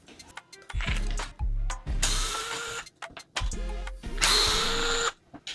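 A power drill loosens screws on the differential cover of a HoBao Hyper SSTE RC car, running in several loud, close bursts of whirring with short pauses between them.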